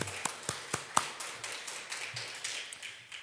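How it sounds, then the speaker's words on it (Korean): Scattered claps and taps from a small church congregation at a Wednesday Advent service, a few sharp hand strikes in uneven rhythm over a faint background, with no voices. "세 분께 박수를."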